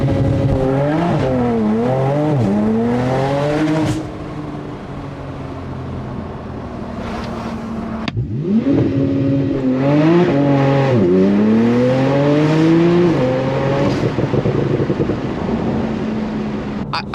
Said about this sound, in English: All right, launch control.